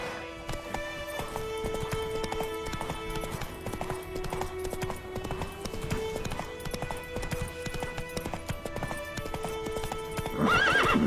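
Horse hooves clip-clopping at a steady galloping rhythm in The Witcher 3, with a horse whinny and a rider's voice near the end, set over continuous game music.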